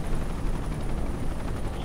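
Helicopter in Ghost Recon Future Soldier, a loud, steady rotor rumble with dense low-end noise filling the whole moment, no voices.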